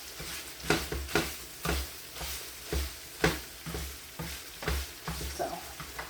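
Food sizzles in a pan while a utensil scrapes and stirs in a regular rhythm, close and moderately loud, with no talking.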